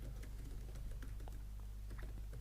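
Quiet, irregular clicking of a computer keyboard as code is typed, soft close keystrokes in short bursts with no voices.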